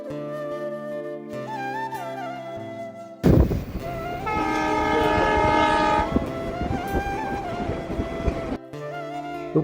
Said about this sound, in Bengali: রূপপুর থেকে ফেরার পথে দেখতে পেলাম একটা ট্রেন আসতেছে, যেটা সম্ভবত মালবাহী, এবং এটা সম্ভবত তেল বহন করতেছিল।